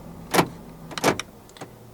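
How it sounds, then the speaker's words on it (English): Central door locks of a 2017 Honda HR-V 1.8 E actuate, two quick mechanical thunks inside the cabin followed by a fainter click, close and alone with no talk. "Central locking."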